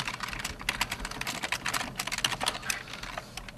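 Rapid, uneven clatter of keys being typed on a computer keyboard, close and steady, with no voices.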